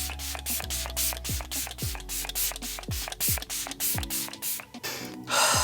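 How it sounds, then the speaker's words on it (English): Setting mist sprays onto a face in a rapid series of about a dozen short, sharp pump bursts, close and fairly loud, followed by a longer hiss at the end. "Then I'm just gonna set my face real fast using the Do Me in the Jungle setting mist."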